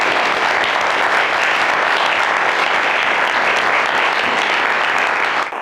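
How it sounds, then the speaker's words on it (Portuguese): A church congregation applauds loudly and continuously, dense steady clapping that fades at the very end. "E vocês poderiam aplaudir e agradecer."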